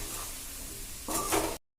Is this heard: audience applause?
no